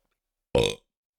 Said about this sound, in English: Sorry for all the burps.